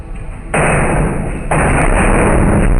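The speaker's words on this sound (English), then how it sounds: "a series of super loud bangs on the wall are heard, the mirror shakes violently, and then a sculpture falls down" Loud heavy bangs against a wall inside a home, two abrupt thudding impacts followed by sustained rattling and clatter, consistent with a shaking mirror and a falling sculpture.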